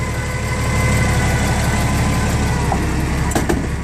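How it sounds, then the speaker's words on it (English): A transit bus engine runs at a steady idle throughout, loud and close, with a brief click near the end. "I'm gonna start my engine. Wait till my engine revs down."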